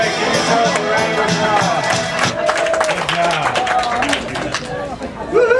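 A room of exercise-class participants claps and cheers in a loud, dense burst of applause, with whoops and chatter mixed in throughout.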